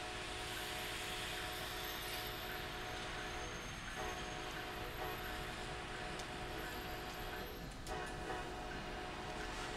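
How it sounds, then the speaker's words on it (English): ALP-45 DP dual-power locomotive on the North Jersey Coast Line in a train simulator, a continuous loud engine drone with steady rumble and faint whine throughout, no talking. "Just know that Americans like making a lot of noise when they move their trains."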